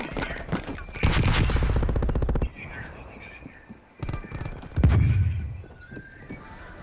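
AK-47 fire in Call of Duty: Black Ops Cold War during a Hardpoint match on the Hijacked map comes as a long, loud, rapid burst, then a quieter gap and a second burst, with a voice speaking between.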